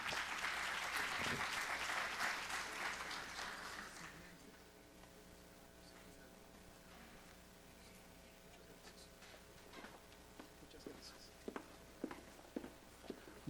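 Applause from a conference audience welcoming keynote speaker Pedro Malta to the stage, a loud dense clapping that lasts about four seconds, then dies away into scattered claps, light footsteps and quiet room noise.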